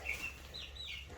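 Young chicks in a chicken coop give a few faint, high peeping calls in quick succession over a brief moment, quiet against a low background rumble.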